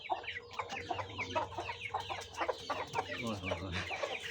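An Aseel hen in Amritsar clucks continuously with short repeated calls at close range, while low background noise runs underneath.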